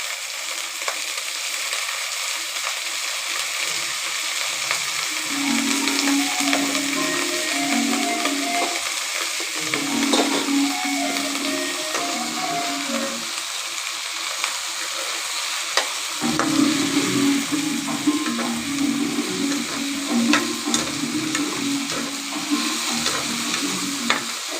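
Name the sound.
eggplant sautéing and being stirred in a pan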